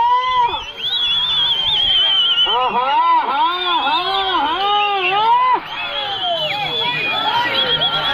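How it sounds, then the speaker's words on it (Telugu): Spectators at an Ongole bull race whistle shrilly and shout, with repeated swooping whistles and long high tones layered over loud crowd noise and yelling, dropping off slightly near the end. "విజిల్లు కేకలు"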